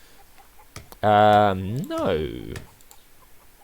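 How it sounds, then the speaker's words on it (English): Clucking fowl in The Plague Doctor of Wippra, a loud, close, drawn-out bird call with a sliding pitch, followed by a second warbling call and then quiet, with a short spoken word nearby. "So we've got the chickens."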